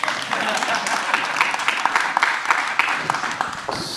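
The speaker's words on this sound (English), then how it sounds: "Give me a round of applause" An audience claps in a lively round of applause, many hands clapping densely and fairly loud, with voices mixed in.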